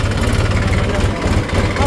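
A village tractor engine idles and runs close by, a loud, steady low-pitched throb with a continuous mechanical rumble that persists throughout the short stretch.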